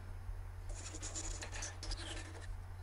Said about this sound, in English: Just a couple of cuts with the hand saws